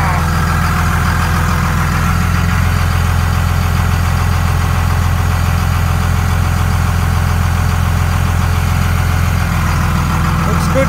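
A Cummins 5.9 diesel engine idles steadily after a fuel filter change, a constant low rumble with a loud, even tone throughout, heard close up with occasional speech in the background.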